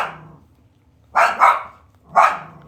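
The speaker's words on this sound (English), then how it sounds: "Ignore my dogs." Pet dogs bark indoors nearby: a faint trailing bark, then a loud double bark and a single loud bark after a pause.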